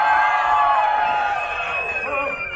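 A crowd watching a street performance at Pier 39 in San Francisco cheers and whoops loudly, a dense swell of mixed voices close by that eases slightly over a couple of seconds.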